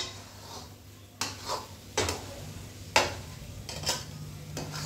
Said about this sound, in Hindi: ये देखिए अभी इसी तरह से हम चलाते हुए इसे पकाते हैं।